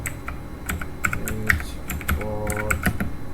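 Close, clear typing on a computer keyboard while entering switch configuration commands, a steady run of crisp key clicks in an uneven rhythm with a few heavier strokes, with soft voice tones in the background.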